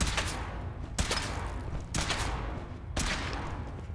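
Gunfire in the video game Fallout 4, heavy sustained bursts of rapid automatic fire that cut in and out roughly every second, loud and dense with no talk over it.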